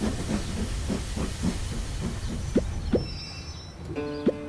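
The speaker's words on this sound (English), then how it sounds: "Mr. Train is arriving at stop number 1." Cartoon steam train arriving at a stop, a run of soft rhythmic chuffs and hisses slowing down, followed by a couple of sharp bursts and a short bright whistle-like tone near the end.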